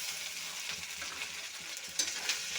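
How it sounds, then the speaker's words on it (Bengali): Onion paste and ground ginger frying in a pan for a Bengali koi fish curry with papaya, a steady close sizzle with soft stirring scrapes and a couple of brighter crackles near the end. "পেঁয়াজ পেস্ট একটু ভেজে নেব"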